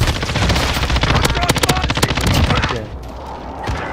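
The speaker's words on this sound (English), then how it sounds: "Enemy precision airstrike." A precision airstrike in the video game Call of Duty Warzone, a loud rapid burst of gunfire-like blasts and impacts that cuts off into quieter rumble, with players talking over it.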